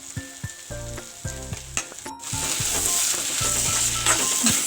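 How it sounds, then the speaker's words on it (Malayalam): Masala for fish keema being stirred in a hot pan, with spoon strokes scraping and clinking over a steady frying sizzle that swells and holds loud through the second half. "2 മിനിറ്റ് ഇളക്കി കൊടുക്കാം."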